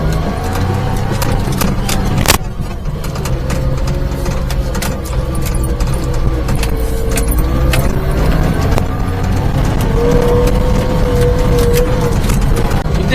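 Mini truck engine with a supercharger running warm at idle, a steady loud drone with whining belt tones and occasional clicks and rattles close by.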